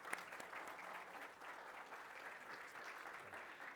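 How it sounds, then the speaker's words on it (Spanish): Applause for a speaker at a Spanish conference session on energy and sustainability: a continuous wash of many hands clapping, even and sustained, heard from a distance at low level. "Un aplauso, por favor, para Ignacio."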